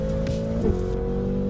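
A BMW M5 CS engine in a driving simulator game, a steady droning engine tone holding a constant pitch with a brief shift midway, heard alone at moderate volume.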